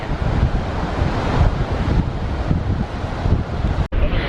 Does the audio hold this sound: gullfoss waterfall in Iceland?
yes